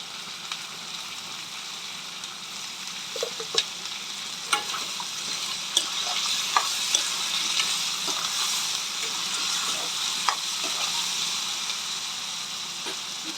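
Chopped onions, green chillies and curry leaves frying in a pan for a curry, a continuous close sizzle with occasional stirring clicks and no talk.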